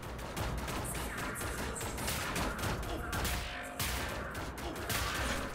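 Rapid automatic gunfire from the video game Wolfenstein: The New Order, at a lunar base level, rattles in dense continuous bursts, loud and close, with brief gaps between volleys.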